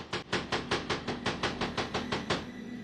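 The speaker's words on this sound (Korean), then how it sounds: "두드리는 소리 들리시죠?" Around a dozen evenly spaced knocks, steady and fairly loud, thudding in a quick regular rhythm with no voices.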